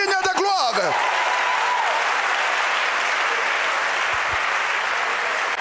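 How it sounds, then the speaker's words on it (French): Church congregation applauding and acclaiming Jesus during a Sunday morning service, a steady wash of clapping that fills the whole stretch, with a brief sung or called-out voice near the start. "Quelqu'un offre une acclamation puissante à Jésus ce matin."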